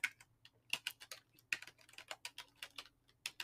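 Quick, uneven clicks of a computer keyboard as a search term is typed, a burst of separate keystrokes with short pauses, close and fairly quiet, with no voices.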